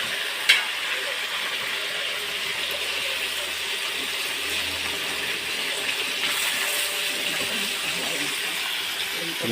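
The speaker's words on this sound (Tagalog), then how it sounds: "Prito isda." Fish sizzles and crackles steadily in hot oil, a continuous close frying hiss with a few faint pops, and a voice speaks quietly at times.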